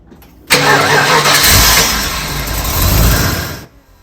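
A Holden HSV VP Senator engine, started for the first time in four years, cranks and catches at once, then settles into a steady, loud idle with a slight rise and fall before cutting off near the end.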